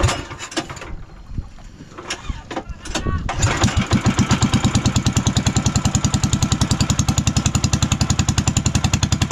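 A misfiring boat or motorcycle engine sputters and coughs irregularly at first, then catches into a loud, fast, steady chugging putter close by, with voices talking over the early part.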